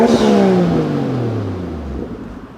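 A Toyota Chaser JZX100 Tourer V with a 1JZ-GTE engine and GP Sports muffler blips its throttle, then the engine note sinks smoothly back toward idle over about two seconds. It is loud and close, with no talking.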